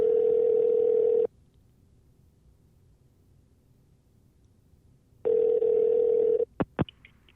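A vintage telephone ringing tone on the line: a steady buzzing burst of about a second, a long silent gap, then another burst, followed by brief clicks as the call connects.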